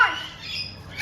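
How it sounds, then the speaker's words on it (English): Birds waiting to be fed nectar let out a sharp, close squawk followed by fainter chattering calls. "All these birds are waiting for you to feed them."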